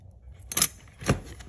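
Loose wrenches, ratchets and small tools rattle in a box, two brief metallic jangling bursts a half second apart, close and fairly sharp.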